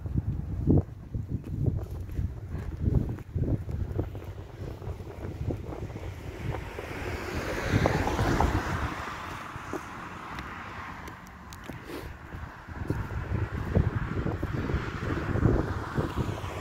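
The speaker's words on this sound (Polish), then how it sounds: "bo wiatr zimny wieje." Cold winter wind blows across the microphone outdoors, a loud, steady buffeting rumble that swells and eases in gusts, with no one talking.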